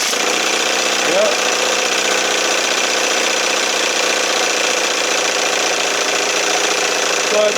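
A 1968 Evinrude Fisherman 6 hp outboard runs steadily at a loud, even idle for the whole stretch, its constant mechanical drone holding without a break or change in pace.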